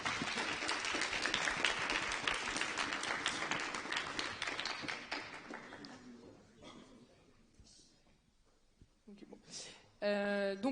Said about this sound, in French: On applaudit du coup.